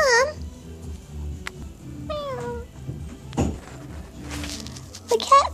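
A cartoon kitten gives a few short, high meows, one at the start and more near the end, among quiet background music and scattered voices in an animated children's show.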